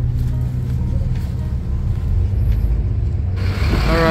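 Inside New York's Port Authority bus terminal, a bus gives off a loud, steady low rumble, which thins out near the end as a brief higher whine comes in.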